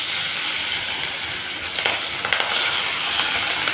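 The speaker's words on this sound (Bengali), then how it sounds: "মাছগুলো ভেজে নিচ্ছি।" Hilsa pieces fry in mustard oil in a wok, giving a dense, continuous hiss of sizzling with a few small spits and crackles partway through, close up and without any talk.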